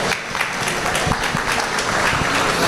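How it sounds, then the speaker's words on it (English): Applause at an open class beef cattle show for two young exhibitors with bucket calves, a loud, dense burst of crowd clapping that holds steady throughout, fairly close. "Let's give both these young men with their bucket calves a round of applause."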